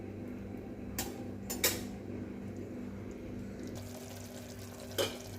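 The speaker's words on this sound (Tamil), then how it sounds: "இப்படி ஒரு பெரட்டு பெரட்டி எல்லாம் அதனோட நல்லா மி மிக்ஸ் பண்ணி விட்டுக்கலாம் மசாலாவோட" Stirring chopped bottle gourd with masala in hot oil in a pan for a Tamil kuzhambu, with a few sharp scrapes and clinks of the spoon against metal over a low steady hum, no talking.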